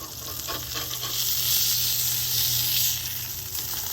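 Beef burgers sear on a cast iron pan on a Weber grill just after flipping, giving a loud, steady, close sizzle and hiss that swells slightly midway.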